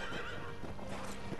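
A horse in the samurai video game Ghost of Tsushima gives a short, loud whinny, with hoof clip-clops mixed in, heard close and alone.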